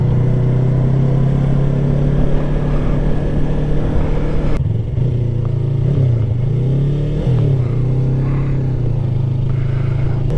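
A motorcycle engine drones loud and close in fourth gear, then drops in pitch as the clutch is pulled and the rider downshifts to third while braking for a turn, engine note dipping and surging steadily.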